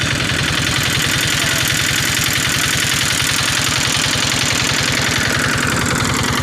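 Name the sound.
motorboat engine running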